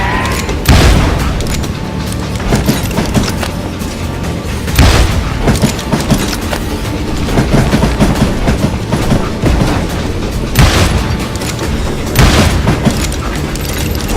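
A moving train in the video game Call of Juarez Gunslinger rumbles steadily and loudly throughout, with heavy booming thuds and rattling clatter recurring every few seconds over a dense, continuous roar.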